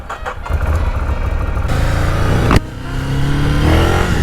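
A motorcycle engine fires up and revs, with a rough loud idle rising into throttle blips and a sharp crack midway, then settling into a steady throaty rumble.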